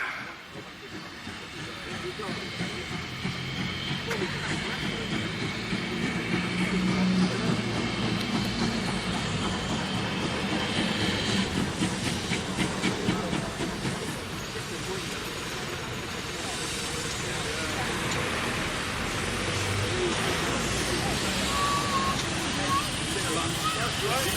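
A Great Western Railway train passes close by with a sustained rumbling roar and hissing, rising and falling over about twenty seconds; faint talk may be buried underneath.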